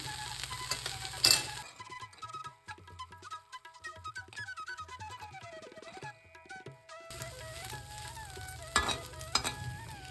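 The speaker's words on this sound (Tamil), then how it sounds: "புதினா இலையெல்லாம் சேர்த்து ஒரு ரெண்டு நிமிஷம் வதக்கியிருக்கேன்" Mint leaves and pieces of tamarind sautéed in a pan: a soft sizzle with occasional spoon clinks, and a tonal melody fills a quieter middle stretch before the frying returns.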